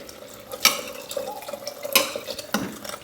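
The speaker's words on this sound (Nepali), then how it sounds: "पानी हाल्छु म।" Water is poured into a cooking pot while making kwati, giving splashy pours and a few sharp clinks against the pot, fairly close and moderately quiet, with no talking.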